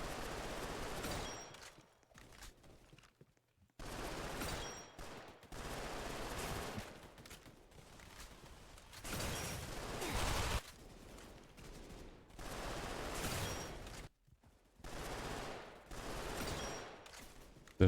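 SMG gunfire in a shooter video game, with repeated bursts of rapid automatic fire separated by short silent gaps, loud and close throughout.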